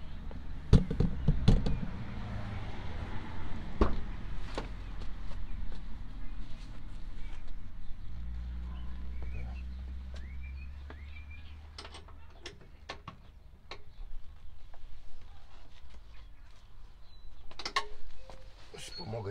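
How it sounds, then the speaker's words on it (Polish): A sagging door being swung open and its fitting tightened, giving a series of short creaks and mechanical squeaks amid scraping handling noises, close by and moderately loud throughout. "Otwieram drzwi i dociągam na zicher."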